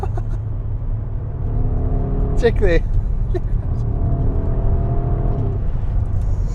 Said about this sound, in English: That sound that comes through that exhaust pipe when you put your foot down